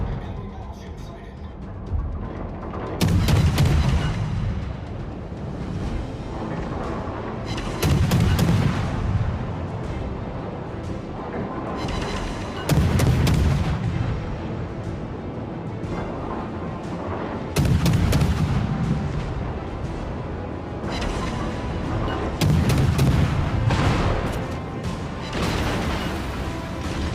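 Cruiser guns in the naval combat game World of Warships fire in five heavy booming salvos spaced about five seconds apart, each a loud low blast with a rumbling tail over constant engine and sea noise.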